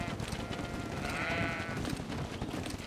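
In the video game Greedfall, a goat lets out a single wavering bleat of about half a second over a busy ambient game soundscape.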